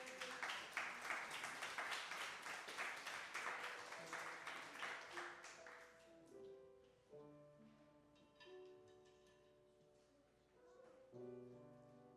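An audience claps together in a dense burst of applause that fades after several seconds, leaving soft scattered sounds and faint organ-like tones beneath.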